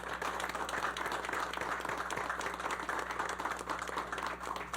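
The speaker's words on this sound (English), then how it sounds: "Give yourselves a round of applause." An audience at a community forum on the San Nicolas vote claps in a steady, moderately distant wash of applause, continuous throughout with no voices on top.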